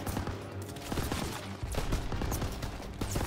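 Rapid automatic machine gun fire in a WW2 shooter game, dense bursts of repeated shots with heavy battle noise throughout, loud and continuous.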